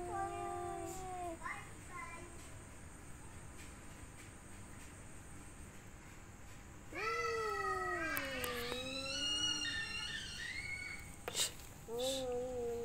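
Cats caterwaul while seeking a mate, drawn-out wavering yowls that come in bursts, loudest and most continuous midway, with quiet gaps between.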